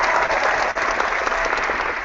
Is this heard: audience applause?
yes